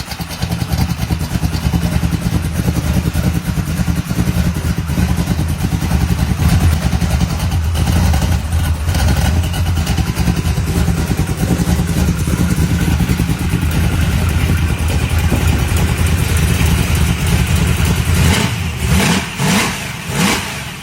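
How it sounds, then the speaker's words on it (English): A 1967 Chevrolet Camaro pro street car with a built 350 small block, BDS supercharger and nitrous system revs loudly and steadily up close, its rough engine roar holding throughout with a few sharp blips near the end. "this 1967 Camaro is powered by a built 350 small block paired with a BDS supercharger and a 250-shot nitrous system"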